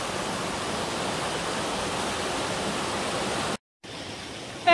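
A boiling river in a volcanic park near the Russian border with Japan gives a steady, loud rushing hiss of churning water that drops out briefly before resuming.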